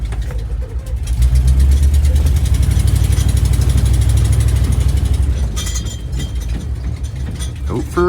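A 1973 International crew cab truck engine runs at a loud, close idle with a rapid mechanical clatter and rattle, steady for several seconds before easing off, with a brief squeak near the end.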